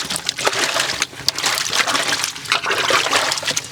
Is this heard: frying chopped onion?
no